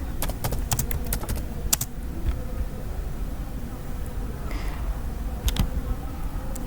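Typing an IP address on a computer keyboard while configuring a Cisco network device, a quick burst of close key clicks at the start, then scattered taps later, over a low background hum.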